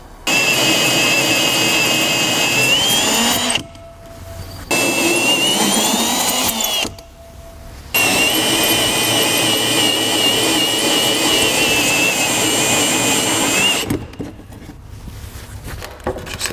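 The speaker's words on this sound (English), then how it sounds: "Drilling regular holes is not nearly as stressful, but drilling those holes, stressful." A power drill bores holes in a custom instrument cluster panel, a loud steady whine with tonal overtones running in long bursts, broken by two short pauses and stopping near the end.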